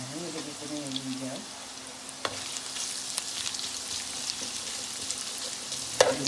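Ginger frying in rendered pork fat sizzles steadily at low volume, with faint stirring clinks and a sharper scrape near the end; a voice speaks softly over the frying.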